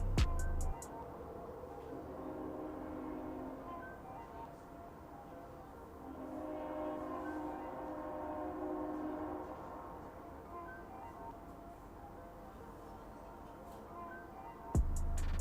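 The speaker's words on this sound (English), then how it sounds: "Stupid train." Passing train heard from a distance, a long steady rumble of rail cars with tonal horn blasts rising in the middle, bracketed by sharp clicks at start and end; no talk.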